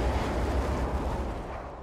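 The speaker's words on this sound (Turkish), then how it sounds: "Sıkışmış gaz yüklü magma volkanik patlamalara neden olur." A volcanic eruption driven by gas-charged magma, a continuous deep roaring rumble like heavy blasts, loud and dense throughout nearly two seconds, easing slightly toward the end.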